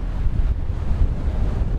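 Sea waves near a river mouth by Orford Ness, a steady rushing wash of surf mixed with wind buffeting the microphone, continuous and fairly close, with no voices.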